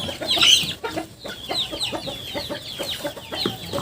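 Domestic chickens, a mixed flock two to three months old, clucking and calling in a farmyard with several overlapping birds, a steady busy chatter with no talk.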